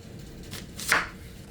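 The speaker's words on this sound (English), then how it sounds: "We're going to go ahead and we're going to cut this onion up" A single soft knife stroke through an onion on a board, chopped roughly for a sausage, green bean and potato casserole; one faint cut stands alone against quiet room noise.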